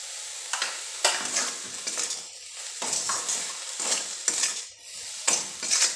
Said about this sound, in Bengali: লবণটা পেঁয়াজের সাথে ভালো করে মিশিয়ে দিচ্ছি